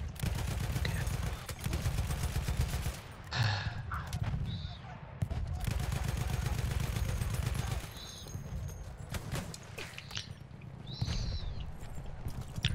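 Gunfire in the Xbox One game Battlefield 1 rattles in dense bursts and single cracks throughout, mixed with game sound effects, while players talk over it.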